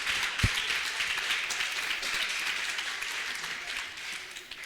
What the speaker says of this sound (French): Par exemple, on applaudit pour ça.